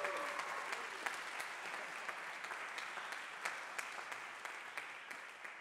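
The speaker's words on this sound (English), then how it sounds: "how about one more round of applause for this incredible rhythm section" A jazz trumpet gala concert audience gives a rhythm section a sustained round of applause, a soft, distant wash of steady clapping that holds evenly throughout.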